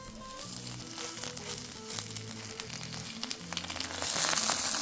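Salmon chunks sizzle in a hot pan as a steady broadband crackle, with spits and pops scattered throughout and music playing underneath; the frying grows louder near the end.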